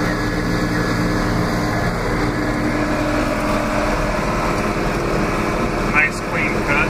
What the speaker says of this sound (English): Pulling a Vermeer TM1400 mower.